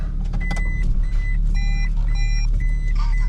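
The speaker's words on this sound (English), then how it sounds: "We're gonna make a K-turn here in our K car." 1998 Opti Aerodown Beex Turbo K car idling and maneuvering through a K-turn, a low steady engine rumble under a series of repeated electronic warning beeps, with no voices.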